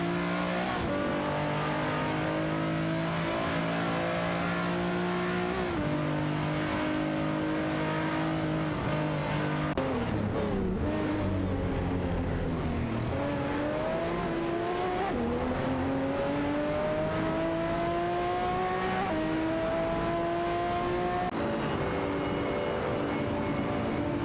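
Racing game cars including a Cadillac CTS-V and a Dodge Viper GT2 roaring around the track, engines droning and shifting pitch as they accelerate and brake in an unbroken loud rush.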